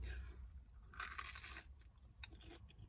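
Crunchy batter-coated fried cheese bite being chewed up close, with a louder burst of crisp crunching in the middle followed by softer chewing and a brief crackle.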